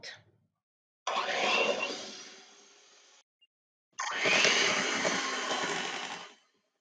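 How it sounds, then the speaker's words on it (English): An electric hand mixer beats Irish shortbread cookie batter in two separate bursts, each a few seconds long, with a short silence between them. The whirring is close and moderately loud, and it fades as the first run winds down. "with my hand mixer, I'm going to mix it until smooth"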